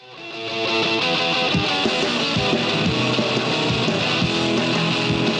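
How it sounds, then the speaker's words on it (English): Raw live blues duo sound of drums and guitar playing together, loud and dense, with steady rhythmic hits under a gritty guitar. "And it's just drums and guitar. And it's the blues"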